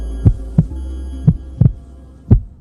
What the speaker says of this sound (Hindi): दिल अचानक जोर से धड़कने लगा